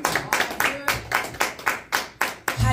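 A church congregation claps together in a steady, even rhythm, about nine sharp claps in under three seconds, loud and close, with no words over them.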